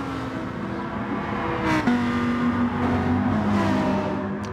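Gr.4 race cars roar along a long straight in Gran Turismo Sport, their engines droning steadily and rising in pitch as they accelerate together, with a pass sweeping by mid-way.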